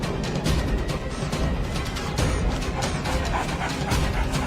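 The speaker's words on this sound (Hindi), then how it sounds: "ये सारे कुत्ते हट जाएंगे।" Several dogs in a Hindi children's cartoon bark and yip in quick overlapping bursts, fairly loud and close, with a whimpering edge and busy noise behind them.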